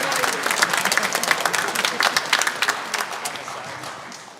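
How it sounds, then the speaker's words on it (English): Audience applause fills a high school band spring concert hall, a dense steady clapping that lasts several seconds with a few louder peaks before easing slightly near the end. "Thank you for all the applause."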